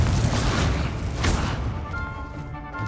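Confringo fire spell exploding in a wizard video game, a loud rumbling boom that swells and then fades into continuous game noise.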